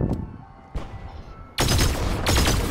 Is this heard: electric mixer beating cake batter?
no